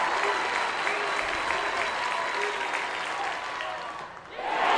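Baseball crowd at a high school state championship game applauding and cheering steadily throughout, a dense wash of clapping and shouts that dips briefly near the end before swelling again, with commentary voices underneath.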